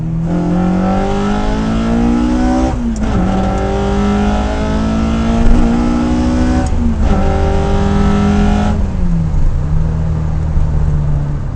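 A car engine revs loudly and steadily through a 6-speed gearbox, its pitch climbing through gears with brief dips at each shift, heard from inside while driving.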